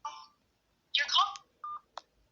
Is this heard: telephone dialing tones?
yes